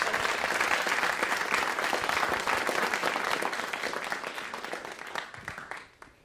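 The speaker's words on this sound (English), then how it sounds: "Give a round of applause here for Jonathan." An audience gives sustained applause after a panel discussion on AI and the 2024 election, dense clapping holding steady for several seconds before tapering off at the end.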